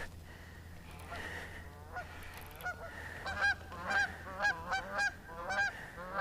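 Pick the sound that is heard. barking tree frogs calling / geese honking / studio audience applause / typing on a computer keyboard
geese honking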